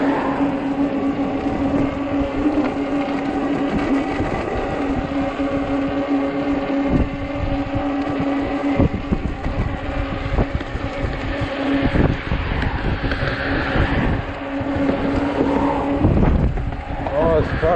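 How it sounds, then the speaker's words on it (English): Wind buffets the microphone while someone rides a 20-inch fat-tire Ecotric e-bike on a cold day, a loud, gusty roar that swells and drops, with a voice briefly heard under it. "Oh, this fucking wind sucks."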